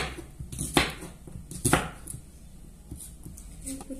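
Knife chopping onion on a board: a few sharp, spaced cuts near the mic, with quieter tapping in between.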